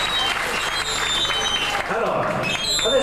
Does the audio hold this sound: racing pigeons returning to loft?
no